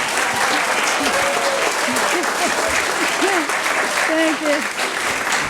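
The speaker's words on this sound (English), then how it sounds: "please stand or wave and we'll cheer for you now" Audience at a county adoption day ceremony applauding and cheering for adopted children, dense steady clapping throughout with scattered voices and whoops, and a brief spoken thanks over it.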